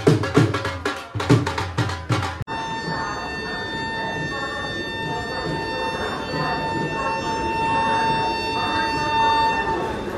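The Amritsar–Kochuveli superfast train runs in Punjab near Ambala Cantt. Steady rolling rumble and rattle fill most of the stretch, with a long sustained horn tone over it. A few loud knocking bursts come at the start.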